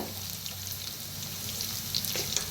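Onion and potato roast in a pan with turmeric, a close steady frying sizzle with faint stirring and a couple of light clinks near the end.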